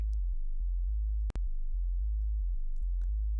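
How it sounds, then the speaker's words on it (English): A low, pure synth bass tone made in Reaktor wobbles up and down in pitch under LFO modulation in a slow repeating pattern, with a brief click partway through. "we can add in an LFO to our pitch input and get some movement to our sound"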